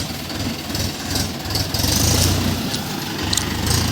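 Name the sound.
tractor engine running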